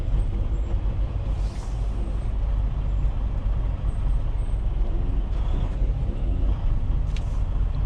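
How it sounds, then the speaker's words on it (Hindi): A truck's air brake is set while parking a truck and trailer between two trailers, giving sharp hissing bursts of air over the steady low rumble of the idling engine. "ये हमने लगा दी पार्क ब्रेक"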